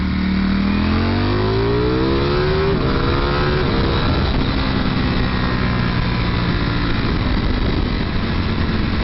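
A Ducati Panigale V4S motorcycle accelerates hard in second gear. The engine note climbs steadily in pitch and stays loud and close throughout, with a continuous roar and no talk.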